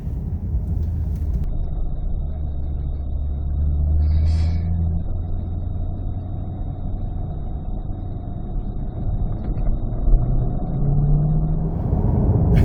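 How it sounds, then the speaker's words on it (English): Hardtop non-Z51 C8 Corvette Stingray on its first run at Mason Dixon Dragway, a steady, loud, low engine rumble that swells slightly midway and holds on, with no talking. "It's my first time down a drag strip in this hardtop Stingray non-Z51 Corvette."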